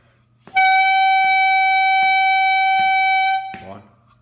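A single sustained, buzzy honking tone held steady for about three seconds, rich in harmonics, with faint soft taps in the background before it cuts off.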